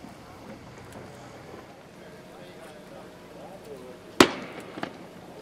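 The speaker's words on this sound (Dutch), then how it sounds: "Hier hebben we een schot." A single sharp starting shot cracks out at a skûtsje sailing race on open water, loud and abrupt against a faint background of wind and low commentary-like talk, with a smaller pop following shortly after.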